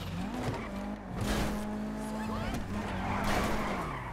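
A car in GTA 5 Online skids and spins out, a long tire squeal with a wavering tone running through the whole stretch over engine noise and game sound, with a voice talking faintly beneath.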